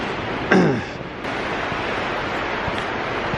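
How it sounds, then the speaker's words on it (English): Fast-flowing water rushes through an underground culvert of the River Medlock, a steady broadband roar that fills the tunnel, with a brief louder surge near the start. "up ahead now I can hear water, a fast flow of water again"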